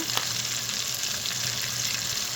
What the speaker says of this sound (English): So now I'm just letting my meat fry and get brown.